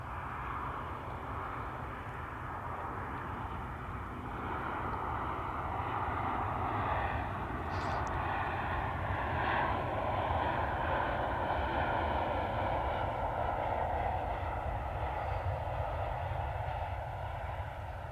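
A 37-year-old Jet2 Boeing 757, diverted to Manchester with flap issues, lands with a long steady engine roar that swells slightly midway and holds loud throughout, with no talking.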